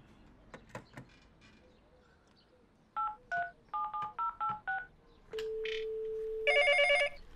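Telephone keypad tones beep one by one as a number is dialed, a quick run of distinct button presses followed by a steady dial tone and then a ringing signal, heard alone and close.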